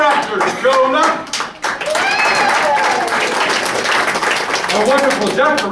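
Loud, sustained crowd clapping fills a small theater as the audience applauds the co-director of a melodrama, with voices speaking over the noise.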